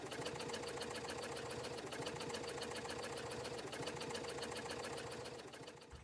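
A sewing machine stitches a vinyl strap in a steady, rapid mechanical whir with an even rhythm throughout, the pitch dipping briefly twice, then easing slightly at the end.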